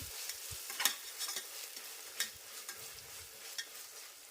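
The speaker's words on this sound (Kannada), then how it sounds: "ಶುಂಠಿ ಬೆಳ್ಳುಳ್ಳಿ ಪೇಸ್ಟ್ ಹಸಿ ವಾಸನೆ ಹೋಗೋ ತನಕ ಎಣ್ಣೆಯಲ್ಲೇ ಇದನ್ನು ಹುರ್ಕೋಬೇಕು" Ginger garlic paste sizzles and crackles in hot oil while a spoon stirs it, with soft scrapes and sputters scattered through a low, steady frying hiss and no talking.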